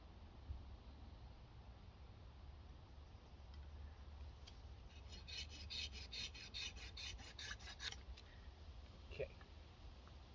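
A Silky Pocketboy folding hand saw cuts into willow wood with a quick burst of short, rasping strokes, fairly close and moderately loud. Quiet background and a few faint ticks come before and after the burst.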